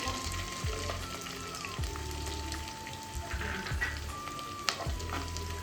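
Onion and green chillies fry in a pan for tomato egg bhurji, a continuous close sizzle with occasional stirring scrapes and a faint background hum.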